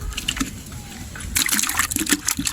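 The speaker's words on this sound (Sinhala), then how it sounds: "මම ඉතින් මෙතනින් වතුර ටිකක් දැම්මා" Water is poured into a container holding freshly caught fish during traditional hook fishing at Kalutara North, a trickling splash that grows louder and busier partway through.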